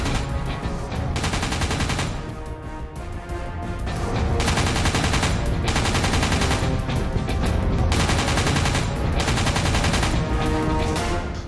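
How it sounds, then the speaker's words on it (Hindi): A medium machine gun fires in long sustained bursts, loud and close, with short pauses between strings of rapid shots and no voices. "MMG 1 मिनट में 600 से 1000 राउंड तक फायर करती है।"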